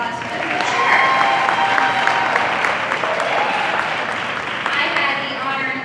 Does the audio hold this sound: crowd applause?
yes